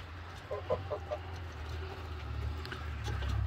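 Roosters clucking in a short burst of three or four rhythmic calls early on, moderately close, followed by a steady low hum and faint background noise.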